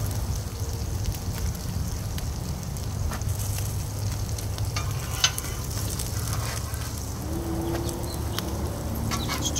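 Slices of canned Spam frying in a pan, an even crackling sizzle with scattered pops and spits throughout, fairly close and steady, no talking.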